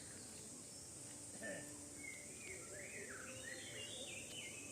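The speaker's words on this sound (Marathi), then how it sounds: "शांत आणि पक्ष्यांचा आवाज ऐक" Faint birds chirp and warble in a quiet outdoor setting near a river and farm, with a steady hum of insects in the background.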